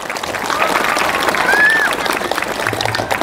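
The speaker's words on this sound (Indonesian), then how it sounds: "Tepuk tangan untuk Darut Tauhid" Applause from an audience at an Indonesian religious talk, moderately loud and sustained, with faint crowd noise and a brief tonal sound partway through.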